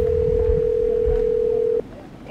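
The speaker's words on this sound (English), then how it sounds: "The next phone call from the draft room went to the Mountain Time Zone." A steady telephone dial tone holds alone for nearly two seconds as a call is placed from an NFL draft room, then cuts off abruptly, leaving quiet room tone.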